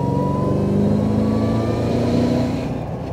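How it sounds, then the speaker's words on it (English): A Bowler Defender with a swapped LSA engine revs hard, a loud, close, steady mechanical roar with exhaust and induction noise that holds, then eases slightly toward the end, with no talk. "The exhaust note and the induction noise is definitely addictive for those seeking power."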